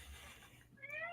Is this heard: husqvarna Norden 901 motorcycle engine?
no